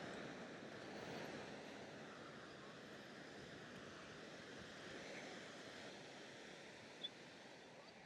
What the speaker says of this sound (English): Beautiful day on the beach, a little windy,